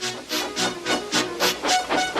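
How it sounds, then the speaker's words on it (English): A storybook steam engine named Gordon hisses and chuffs as it readies to back onto a train, loud rhythmic bursts of escaping steam repeating about four times a second with no voices. "Gordon, with much noise and blowing of steam, got ready to back onto the train."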